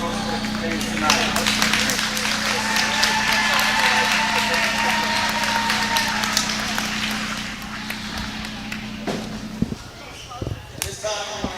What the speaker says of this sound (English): Let's give one more round of applause for the girls' team tonight.